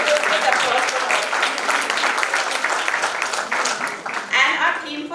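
An audience at a grand installation ceremony claps steadily, a dense sustained round of applause mixed with crowd murmur and voices, fairly close and loud throughout.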